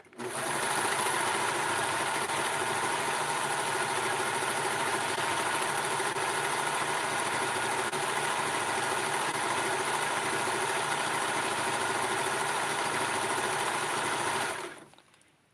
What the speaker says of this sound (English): So let's do the serger, and this is going to be a new look.